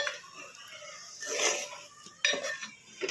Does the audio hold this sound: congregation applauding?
no